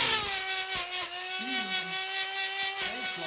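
EzzDoo electric chainsaw chain sharpener grinding a chain, a steady high-pitched motor whine with short rising grinding strokes as the stone bites, close and continuous.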